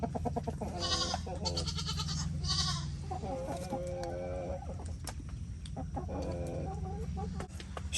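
Chickens cluck and squawk close by with a rooster's harsh calls among them, several birds overlapping continuously over a low barnyard hum.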